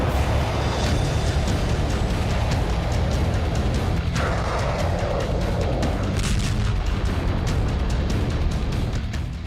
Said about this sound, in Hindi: युद्ध में रूस की तोपें आग उगल रही हैं